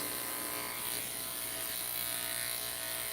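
Electric clippers shaving a dog during grooming, a continuous close buzzing drone with an even, unbroken tone throughout.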